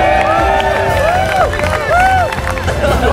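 A crowd cheering and shouting before a diwheel car race, a loud continuous roar of voices with whoops and yells, spoken announcements over it.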